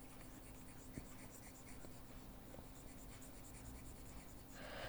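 Chalk or marker writing on a board during an engineering lecture, a faint steady scratching and tapping over a constant room hum, with no talking.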